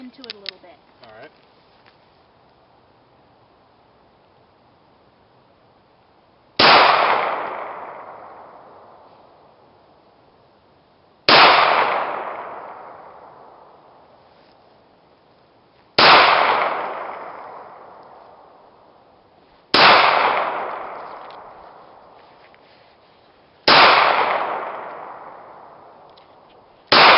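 Five loud pistol shots from a new shooter, spaced roughly four seconds apart, each a sharp crack with a long decaying echo; faint handling noise before the first.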